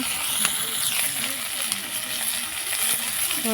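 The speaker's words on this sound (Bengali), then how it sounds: "এবার দিয়ে দেবো রসুন, একটু ছিলে থেতো করে নিয়েছি, সেই রসুনটা দিয়ে দেবো। দিয়ে একটু ভেজে নেব।" Crushed garlic frying with onion in a hot pan makes a continuous bright sizzle, with faint scraping and a few soft clinks of a spatula against the pan.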